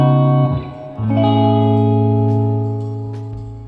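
Sustained electric guitar chords ring out through the reverb of a Laney L5-Studio amplifier, with a loud attack followed by long smooth tails that fade slowly, close and alone, with no voices.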